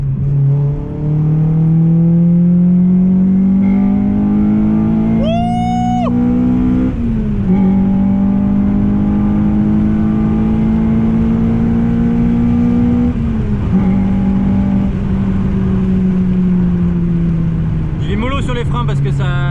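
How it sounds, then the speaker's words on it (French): A Honda Civic EP3 Type R engine revs on the road, its steady, loud drone rising and falling in pitch through gear changes, with small, subtle backfire pops here and there. "elle fait des petits backfire, elle fait des petits pof mais c'est très subtil."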